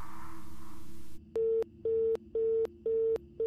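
Garbled phone call in the horror game The Mortuary Assistant: a noisy distorted burst cuts off, then four regular electronic tone pulses repeat at steady half-second intervals, clear and close, with no talk over them.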